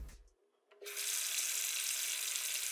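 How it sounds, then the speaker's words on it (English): A faucet is turned on: a faint click, a short pause, then a steady, full rush of running water that continues to the end. "I'd use the sound of a faucet turning on to transition to it"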